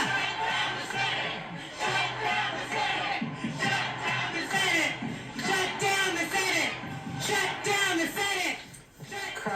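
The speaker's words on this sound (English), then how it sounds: "Crowd shouting there, "Shut down the Senate,"" A large protest crowd shouts and chants outside the Treasury building, a dense roar of many voices rising and falling in waves throughout, with cheers and whoops breaking through.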